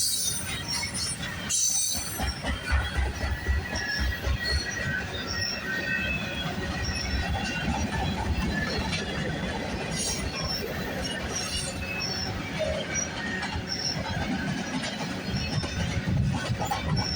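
A CN freight train rolls past at Burlington West, its wheels squealing in sustained high-pitched screeches above a heavy rumble of cars, loud and continuous with a brief clatter early on.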